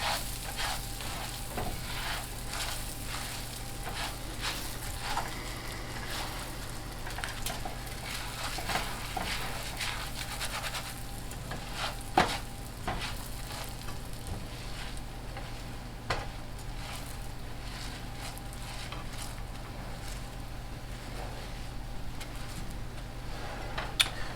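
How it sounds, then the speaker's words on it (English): Risotto rice sizzles and fries in a pan, a steady crackling hiss with scattered ticks and small clinks of stirring throughout, fairly close. "as this rice is cooking, this pan's almost going to be overflowing with rice"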